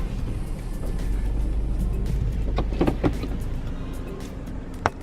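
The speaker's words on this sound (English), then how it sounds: "Driving down some random farmer's field onto the beach for a swim." A car rolling slowly down a bumpy farmer's field toward a beach in Cyprus, with a steady low engine and road rumble inside the cabin, scattered rattles and creaks, and one sharp knock near the end.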